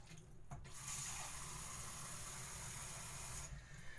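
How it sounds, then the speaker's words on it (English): A kitchen tap runs steadily for about three seconds to fill a glass of water, a broad hiss that starts and stops cleanly and sounds close and alone, with no talk over it. "let me get my glass of water."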